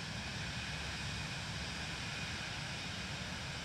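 FlyingIron FFX Vision Jet G2 in flight over Chicago in MSFS 2020: a steady, quiet, broadband jet engine and wind roar, unchanging throughout.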